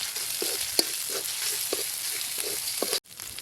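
Ground cumin and dried chili paste frying in oil with panch phoron, a close steady sizzle broken by regular soft scraping strokes of a spoon stirring in the pan, with a brief break near the end.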